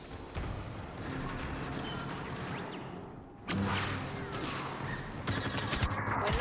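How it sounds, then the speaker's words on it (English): Secondary-fire weapon shots in a sci-fi shooter, a few sharp blasts and whooshing bursts amid ongoing battle noise, moderately loud and growing busier toward the end. "Take another down with the secondary fire."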